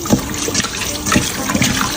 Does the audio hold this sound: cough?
no